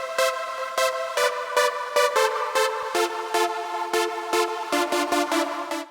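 A bright trance synth lead squashed by OTT multiband compression plays a rhythmic run of short, punchy repeated notes, dense and upfront, alone with no voices.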